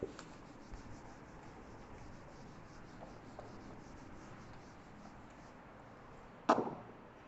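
Chalk or marker scratches faintly across a classroom board as questions are written, quiet and intermittent over low room hiss, ending in one sharper tap near the end.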